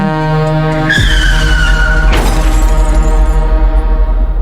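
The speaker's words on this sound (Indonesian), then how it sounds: "Suara rem langsung saja berderit. Jerit ban di aspal yang basah," Car brakes screech and tires skid on wet asphalt on a lonely road, a loud sustained squeal with a sharp crashing burst partway through, then a steady low rumble.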